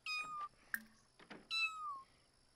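A cat meows in The Sims 4 video game, two drawn-out meows with a short chirp between them, close and clear against a quiet background.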